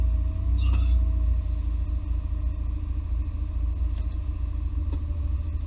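A Volkswagen Corrado rolls along on its first drive in seven years, its engine a steady low rumble heard from inside the cabin, with a few faint clicks and no talking.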